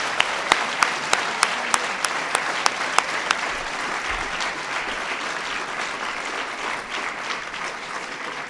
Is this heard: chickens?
no